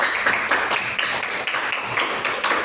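Students in a classroom applaud with rhythmic hand clapping, a steady stream of overlapping slaps with periodic louder beats, moderately loud and with no talking over it.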